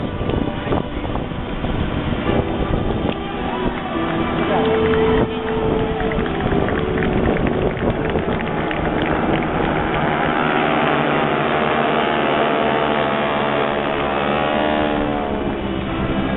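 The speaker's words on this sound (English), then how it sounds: "Continue to watch your aircraft overhead as they rejoin and then reverse to give you another more exciting photo opportunity across Show Center." Aircraft fly overhead in a fan pass formation at the 2012 Atlantic City Airshow. A loud, sustained engine roar with sweeping, shifting pitch is heard as they pass, and an announcer's voice carries beneath it.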